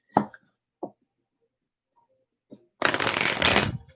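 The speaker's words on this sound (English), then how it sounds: "I'm just shuffling my cards first." A deck of tarot cards is tapped a few times, then shuffled in one loud, close riffle lasting about a second, with no talking.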